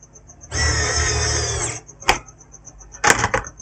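Screws being driven into an HP 250 G5 laptop motherboard during a repair: a steady mechanical whir lasting just over a second, then a few short sharp clicks and taps, close and fairly loud.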